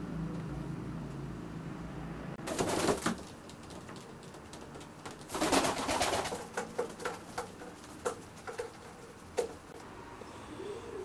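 Racing pigeons coo softly nearby in a loft in repeated low murmurs, broken by a couple of louder bursts like flapping wings.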